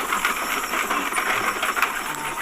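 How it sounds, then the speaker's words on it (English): Steam traction engine venting steam as the throttle opens on a hill climb, a steady loud broadband hiss with faint rhythmic pulses running throughout. "So he's going to bleed off a little steam,"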